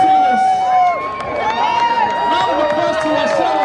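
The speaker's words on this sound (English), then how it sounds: "Round of applause to our sailors." Spectators at a cardboard boat race in Riverhead cheer and shout for the sailors, with excited voices and a loud announcer's voice riding over the crowd noise throughout.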